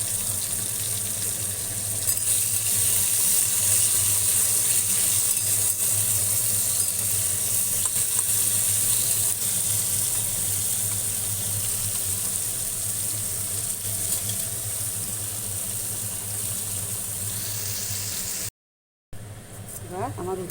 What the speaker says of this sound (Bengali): এবার আমি উচ্ছেটাকে নুন হলুদ মাখিয়ে রেখেছিলাম, সেটাকে আমি ভাজবো।